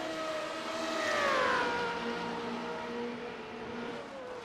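GT3 race cars in a sim racing game scream past, a loud high-revving engine whine that rises and shifts pitch as the cars pass close by, with several engine tones overlapping.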